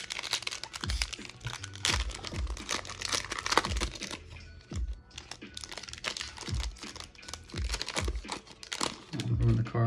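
A foil pack of 2021 NFL Mosaic football cards being torn open, with crinkling and crunching foil rustles in bursts across the clip, close and fairly loud, with a voice talking under it at times.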